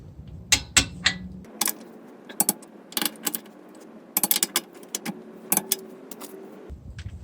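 A torque wrench clicks sharply while tightening ring gear bolts on a Ford 8.8 rear axle in a driveway, several distinct close clicks and ratcheting taps scattered over a faint background hum.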